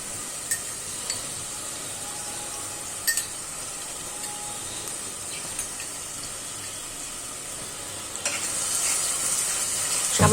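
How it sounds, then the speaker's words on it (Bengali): Prawns fry in a pan with a curry of kham potato, giving a constant crackling sizzle broken by a few sharp utensil clicks, with the frying growing louder toward the end. "এখন আমি চিংড়ি মাছটা দিয়ে দিলাম"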